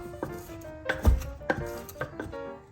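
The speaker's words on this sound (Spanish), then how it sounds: "proceder a machacar este diente de ajo" A garlic clove being crushed for a lentil salad, heard as a handful of dull, close thuds and knocks spaced irregularly over a few seconds, with no talking.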